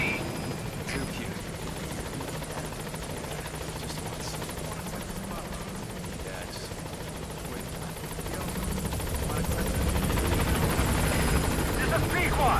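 The Pequod helicopter in Metal Gear Solid V: The Phantom Pain comes in to land at a landing zone, its steady rotor drone filling the clip and swelling louder toward the end, with voices faintly underneath.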